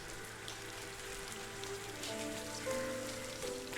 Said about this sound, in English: Is the rain too overwhelming?